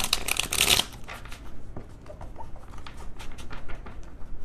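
Small tarot card deck being shuffled by hand, a loud close burst of riffling flutter at the start, then quieter scattered card taps and slides continuing alone.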